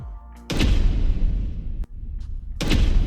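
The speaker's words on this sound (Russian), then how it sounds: "Я использовал звуки типа хит и бум из трейлерных библиотек." Several heavy cinematic trailer booms, each a deep impact with a long decaying tail, plus a sharp brief trailer hit in between; no voices.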